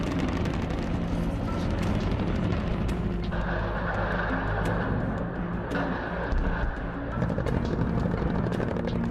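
An Indian Air Force AH-64 Apache attack helicopter produces a loud, continuous rotor and engine roar that fills the whole stretch without letting up.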